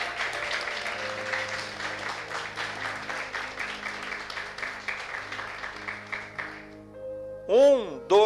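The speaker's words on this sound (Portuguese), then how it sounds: "Dê uma salva de palmas para o Senhor" A church congregation claps together in praise, a dense continuous wash of applause lasting several seconds before fading, followed by a brief sung or sustained tonal sound at the end.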